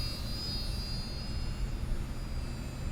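A small battery-powered plane's engine drones steadily and evenly throughout, a constant close hum with a faint high whine and no voices.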